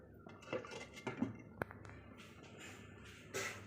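A lid clatters onto a metal pot of simmering ridge gourd curry with lentil dumplings, giving a few quiet clinks and one sharp metallic tap, then faint rattling.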